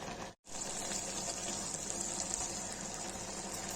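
Water poured or gushing into a pan of frying mushrooms and beans for an Indian-style curry, a steady close hiss and splash lasting a few seconds after a brief gap, with no talking.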